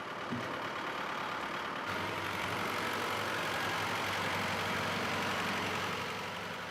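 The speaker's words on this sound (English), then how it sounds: "Unbelievably, the engine seems to be ticking over fine." An old engine idles steadily in a French chateau, a constant low rumbling drone that holds at an even level for several seconds, close and alone with no speech.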